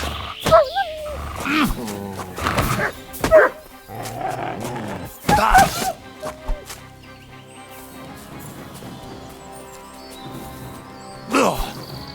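Wild dog in Kingdom Come: Deliverance II barking and growling in several sharp bursts with gaps between, set against game ambience and other background sounds, fairly close and moderately loud.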